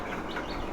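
Chickens cluck softly at close range in a short, continuous burst of farmyard fowl sounds.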